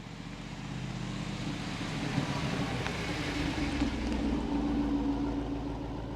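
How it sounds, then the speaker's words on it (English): A 2024 Jeep Wrangler 392 with its 6.4-liter V8 and performance exhaust valves open gives a steady low rumble while cruising, even and moderately loud. "when you're just regularly driving this with the exhaust valves open, so the performance exhaust on, it sounds very clean."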